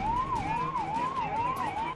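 An ambulance siren wails in a steady rising and falling cycle, moderately distant over low road noise, continuous for the whole stretch.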